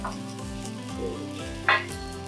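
Yellowtail for teriyaki sizzles in a pan over a steady hum, with a sharp hissing burst near the end as sauce hits the hot surface.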